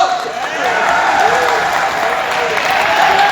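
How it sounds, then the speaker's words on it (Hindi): A crowd claps loudly and steadily at a company event during an IMC Thailand trip in Pattaya, with someone speaking over the applause throughout. "तालियां"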